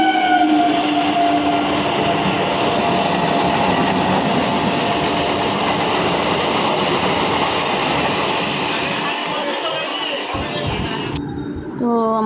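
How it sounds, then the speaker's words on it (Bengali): A train bound for Kalyani rumbles loudly and steadily into a station, with squealing brakes and metallic screeches as it slows, over faint crowd murmur. "আমাদের ট্রেন চলে আসছে আমরা এখন উঠবো ট্রেনে"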